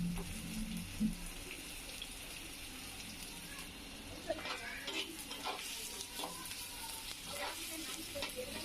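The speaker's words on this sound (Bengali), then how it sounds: "আমার পেঁয়াজটা ভাজা হয়ে গেছে" Sliced onion and green chilli sizzle steadily in hot oil with bay leaf, cinnamon and cardamom, a quiet continuous frying hiss with occasional stirring scrapes and clinks.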